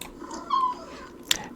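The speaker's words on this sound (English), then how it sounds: "And now we got a cat." A cat meows in the Christmas Stories: Nutcracker hidden-object game, a short tonal cry in the middle followed by a brief sharp click, with quiet background otherwise.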